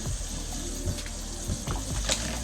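Tap water runs steadily at a sink while makeup brushes are rinsed one at a time, a close, continuous splashing hiss with small irregular spatters and no voices.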